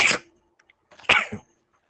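A person sneezes twice during a roof-framing lesson on measuring between wall plates and trusses: a sharp burst, a short pause, then a second, stronger explosive burst with a brief tail.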